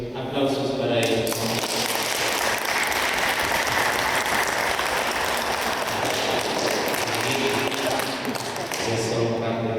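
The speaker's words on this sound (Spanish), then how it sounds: "Aplausos para ellos." Church congregation applauding newly baptized members during a baptism, a steady dense wash of clapping lasting throughout, with a faint background voice and lower tonal sounds at the start and end.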